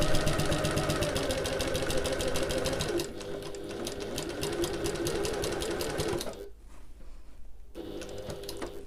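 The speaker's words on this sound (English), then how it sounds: "I'm going to change my stitch length up to my basting stitch before I carry on sewing all along the bottom" A sewing machine running a long basting stitch along the bottom of a backpack buzzes steadily and close for about six seconds, eases to a lighter run, then stops briefly before starting again. No one speaks.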